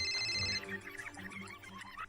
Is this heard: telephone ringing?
yes